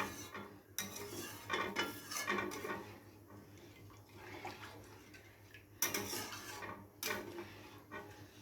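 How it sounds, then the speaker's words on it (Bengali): Fish curry with posto being stirred in a pan after water is added, a spoon scraping and clinking against the pot in a few irregular bursts with soft liquid sloshing, fairly quiet and close. "তো জলটা দিয়ে খুব ভালোভাবে নাড়াচাড়া করে দেবো।"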